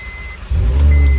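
A car with an overheating problem, its radiator just filled with coolant, starts up: a short crank, then the engine catches and settles into a loud, close idle.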